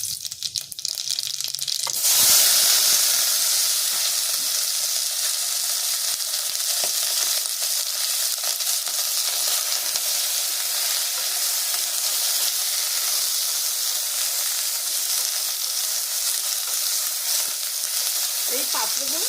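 Panch phoron spices sizzle hard in hot oil with a loud, steady hissing crackle that starts abruptly and carries on close up for the rest of the stretch, no talking over it.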